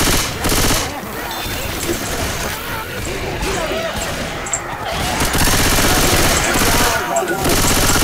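Rapid automatic gunfire from the video game Left 4 Dead 2 rattles continuously and loudly, mixed with game effects and players talking over it.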